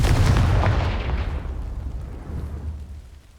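A Confringo blasting spell explodes in the video game Hogwarts Legacy, a loud booming blast that rumbles and decays over a few seconds with no voices.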